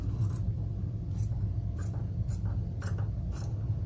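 Scissors snip through a small piece of hair-bow material in six quick, crisp cuts spaced about half a second apart, close up over a low steady background hum.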